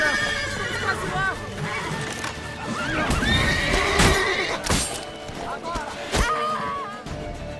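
Horse neighing and whinnying with clip-clopping hooves in The Witcher 3: Wild Hunt, several whinnies rising over a busy game soundscape, with voices talking underneath throughout.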